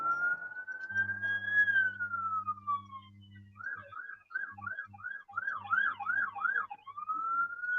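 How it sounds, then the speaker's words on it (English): A police siren wails from a distance, rising and falling, then switching to a rapid yelping pattern before returning to a long wail. "there are sirens in the background"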